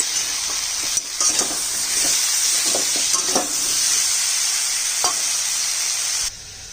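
Spices sizzling in hot oil in a pan with salt and turmeric, then tomato added, a steady loud fry with scattered stirring scrapes throughout.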